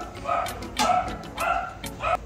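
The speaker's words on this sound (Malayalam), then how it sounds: "അതാ പട്ടി കുറയ്ക്കുന്നത്." A dog barks near a home kitchen in several short bursts spaced across a couple of seconds, fairly close and loud over light background noise.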